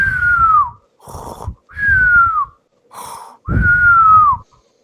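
A voice imitates a bird whistling behind a door, with three falling whistled tones alternating with breathy snoring-like snorts. Each whistle is close and fairly loud, separated by brief pauses.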